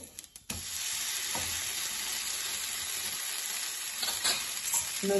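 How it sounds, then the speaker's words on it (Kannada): An ade dosa sizzles loudly and continuously on a hot pan after a few sharp scrapes and knocks as it is flipped, the frying hiss staying close and dense throughout. "ಒಂದ್ ಕಡೆ ಬೆಂದಿದೆ, ದೋಸೆ ತಿರುಗಿಸ್ತಾ ಇದ್ದೀನಿ."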